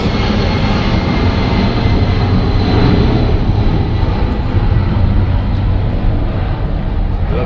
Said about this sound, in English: there's an airplane